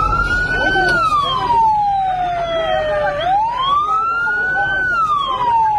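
An ambulance siren on a road in Kerala, running with lights on while carrying a patient to a medical college hospital in Alappuzha, wails loudly and steadily, sweeping up and down in pitch throughout.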